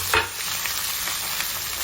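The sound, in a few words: onion, tomato and green chilli frying in pan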